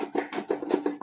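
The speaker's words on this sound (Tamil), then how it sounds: "நம்ம ஸ்வீட் பொட்டேட்டோ இந்த மாதிரி நம்ம சீவி எடுத்துக்கலாம்" A sweet potato being shaved into thin slices for chips, with quick, close scraping strokes repeating rhythmically, about five in a single second.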